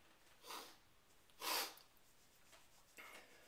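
A few quick nasal sniffs, short and soft, spaced apart in a quiet room, the middle one louder and closer.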